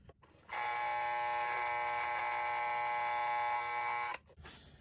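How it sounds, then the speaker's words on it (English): A General Electric 7281 electric alarm clock buzzer sounds in one continuous harsh, rasping buzz lasting about three and a half seconds, then cuts off. "A simple buzzer to wake you up"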